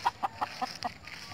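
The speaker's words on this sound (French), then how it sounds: "Le coq est très protecteur envers ses poules." Backyard chickens cluck in quick repeated bursts, close and moderately loud, with a rooster in the flock and a low background hiss.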